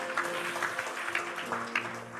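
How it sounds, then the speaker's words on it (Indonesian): Church congregation applauding for Jesus at a Christmas service, soft steady clapping with a sustained musical tone underneath. "Berikan tepuk tangan buat Tuhan Yesus."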